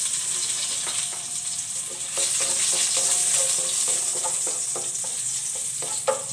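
Garlic sizzles in a little hot oil in a pan, a steady, bright crackling hiss close by, with scattered clicks and scrapes of stirring throughout.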